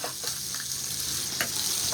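Garlic sizzles in a very hot frying pan while shrimp scampi is being cooked, a close, steady crackling hiss with small popping spatters throughout.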